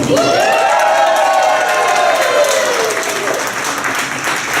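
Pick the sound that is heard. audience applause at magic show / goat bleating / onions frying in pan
audience applause at magic show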